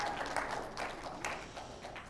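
An audience at a Hebrew academy event gives a brief, fairly faint round of applause, a steady wash of many hands clapping from a distance in a large room.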